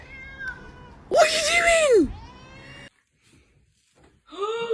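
A cat gives loud, drawn-out meows amid a chaotic indoor scene, one long wailing cry near the start and another rising call at the end, with people talking over it and a brief quiet gap between.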